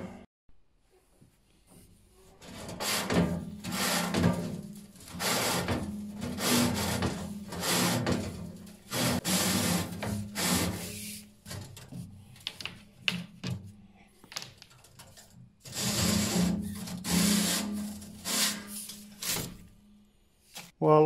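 A wood stove chimney being swept with a brush on a roof, giving bursts of scratchy rubbing and scraping that come and go in uneven rounds with quiet pauses between.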